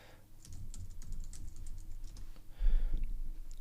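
Typing a password on a computer keyboard: a quick run of close, crisp key clicks in an uneven rhythm, with a heavier thump near the end and no talking.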